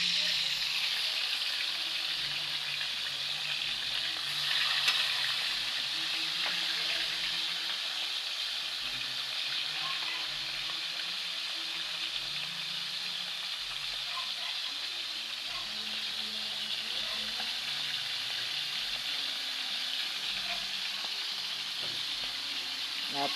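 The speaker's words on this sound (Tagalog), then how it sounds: "Piniritong galunggong." Galunggong, round scad fish, frying in oil, a steady, close crackling sizzle that carries on unbroken with faint pops and a light clatter.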